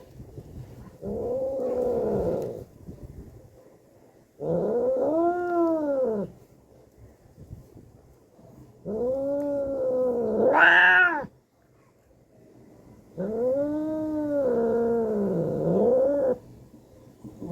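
A stray cat being picked up and handled makes four long, drawn-out yowling growls separated by short pauses, one rising into a sharper cry, close to the listener.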